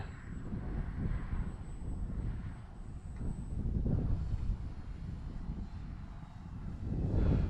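An RC model airplane's electric motor drones faintly in flight, largely buried under strong, continuous wind buffeting the microphone.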